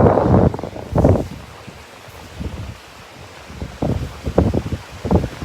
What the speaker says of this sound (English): So you can hear just how windy it is.